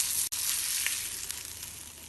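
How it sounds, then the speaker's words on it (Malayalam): Pomfret fish fries in a pan with a soft, steady hiss and crackle throughout, faint and close with no voices. "മറ്റേ മീനും കൂടെ ഇതേപോലെ ഫ്രൈ ചെയ്തെടുക്കാം."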